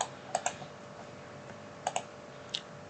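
Mouse clicks in Revit software at a computer, coming in small clusters of two or three quiet, crisp taps with pauses between.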